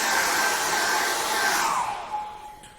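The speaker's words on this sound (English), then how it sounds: "Now I'm going to dry that off with a hairdryer" A hairdryer blowing over wet acrylic paint, a loud steady close whoosh with a faint whine that holds for about two seconds and then winds down as it is switched off.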